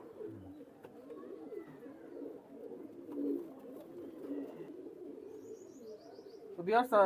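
Teddy pigeons coo steadily in soft, low, throaty rolls close by. A brief burst of chirping comes near the end, and a faint voice can be heard in the background.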